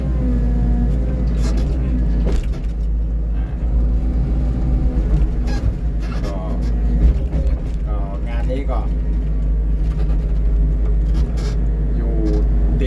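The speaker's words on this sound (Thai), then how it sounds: "ตอนนี้ก็ต้องใช้รถ หกล้อนะครับ ใช้หกล้อเข้ามาช่วย" A six-wheel dump truck working alongside a Bobcat E55z excavator loading soil near the foot of a hill, with a loud, steady diesel engine rumble and clanking machinery, and someone talking over it.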